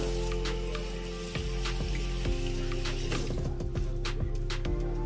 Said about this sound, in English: I'm gonna wash my hands real quick again